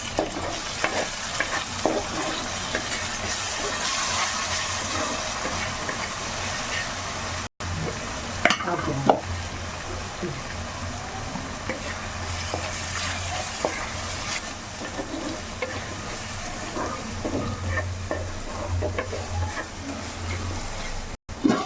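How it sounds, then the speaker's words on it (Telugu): Onions fry in oil in a pan for a Telangana-style fish curry: a continuous sizzle with repeated scraping and clacking as a spoon stirs them, close and fairly loud, with two brief cuts to silence. "ఈ ఆనియన్స్ని అయితే కాసేపు మగ్గనిద్దాం మనం ఆయిల్లో"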